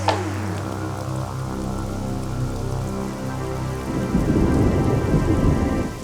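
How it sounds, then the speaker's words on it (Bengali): A thunderstorm rolls with a long, deep rumble of thunder over steady rain, the downpour growing heavier and louder toward the end, no voices. "এই রে, মুখের কথা শেষ হতে না হতেই বৃষ্টি শুরু হয়ে গেল।"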